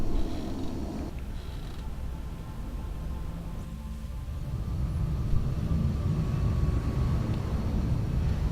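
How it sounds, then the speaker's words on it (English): Jet aircraft flying home in XCOM: a steady, low engine rumble and hiss that holds throughout and grows slightly heavier toward the end. "So we're going to take the nice fancy jet home."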